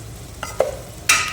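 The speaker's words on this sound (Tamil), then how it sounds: "அப்படியே மிக்ஸ் பண்ணிடலாம்." Potatoes frying in oil in a pot for a potato kulambu curry are stirred, giving a few soft scraping strokes and a louder final scrape over a low sizzle, with no talking.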